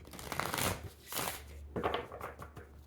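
Oracle cards from the Shaman's Dream deck riffle and ruffle in a few quick bursts, close and quiet, with no voices.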